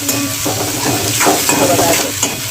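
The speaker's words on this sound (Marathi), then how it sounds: "त्याला पण तेलामध्ये चांगलं फ्राय करून घेऊया" Tomatoes frying in oil with onion for a dry matki curry, a loud, close, steady sizzle with spatula stirring and scraping layered on top.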